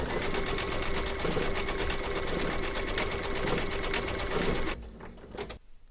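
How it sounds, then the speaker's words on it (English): Embroidery machine stitching white thread, a steady rapid mechanical whir with fast regular needle pulses, close and continuous, stopping abruptly near the end before a few faint clicks. "Load your thread colour for the teeth into your machine and then stitch round number 7"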